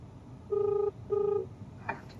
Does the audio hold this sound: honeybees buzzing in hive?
no